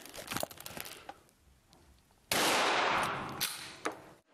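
A pump-action shotgun fires a single loud blast that cracks and rolls off over a second or two, preceded by handling rustles and clicks, heard close.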